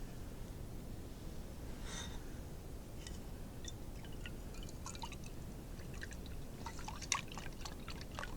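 Water and stock or broth pour into a soup pot for sausage and gnocchi soup, a soft, steady stream over a low kitchen hum with a few faint clinks and drips.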